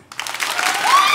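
Applause from a live comedy show audience in Brossard, a short burst of clapping rising quickly from silence and building through the second, fairly loud.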